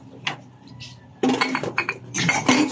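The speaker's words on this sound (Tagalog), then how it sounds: "Hugasan muna natin itong mga pinagkainan ng aking mga senyorita." Dishes being washed by hand clatter and clink up close, with plates and cutlery knocking together in irregular bursts after a quiet start.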